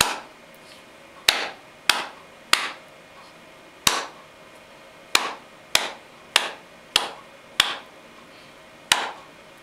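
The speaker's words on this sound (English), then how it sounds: "Let me clap the rhythm for you" Sharp hand claps beating out an uneven rhythm, about a dozen crisp, close strikes with short gaps and small echoes, no talk.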